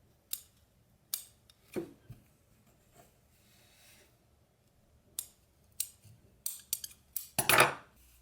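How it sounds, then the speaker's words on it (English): Scissors snipping through sheepskin shearling for a pair of earmuffs: a series of short, crisp cuts in irregular clusters, close and fairly quiet, with a denser run of snips near the end. "Slide your scissors in there."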